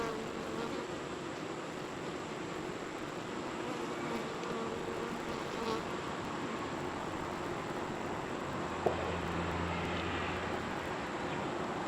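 Honeybees buzzing steadily at an open hive where workers pack pollen and build comb, a dense continuous drone close by with no talking.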